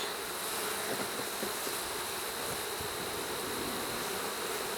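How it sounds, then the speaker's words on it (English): Honey bees flying around an open hive ahead of winter, a dense, continuous buzzing hum that fills the whole stretch at an even, moderate level, with no voices. "Lots of bees flying around."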